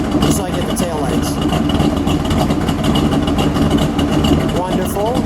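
A 1967 Plymouth Belvedere GTX with a 426 Hemi V8 idles with a loud, steady, lumpy rumble close by, and voices talk over it.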